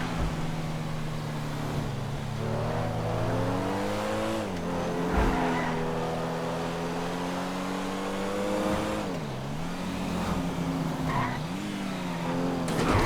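Pfister Comet Retro Custom in GTA Online roaring along a road, engine pitch rising and dipping through gear changes and cornering, with tire squeals and skids as it slides, loud and continuous without speech.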